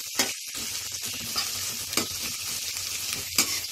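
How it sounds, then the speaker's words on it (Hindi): Onions fry in plenty of oil for kadai chicken, a steady close sizzle broken by several sharp scraping stirs of a spoon in the pan. "प्याज को हम गोल्डन ब्राउन होने तक फ्राई करेंगे।"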